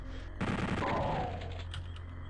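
A chain gunner enemy fires a rapid burst in a Doom-style mod for Quake, a short dense rattle of gunfire that starts abruptly and fades out after about a second.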